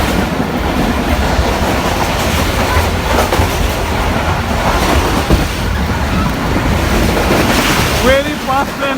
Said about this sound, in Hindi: Very fast train, Pakistan.